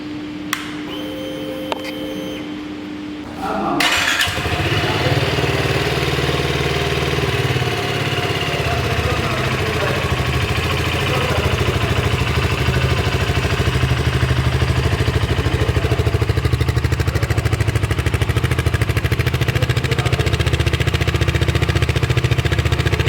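A BSA Goldstar 650 motorcycle engine fires up after a few quiet seconds and settles into a steady, loud, rumbling exhaust note that holds without a break.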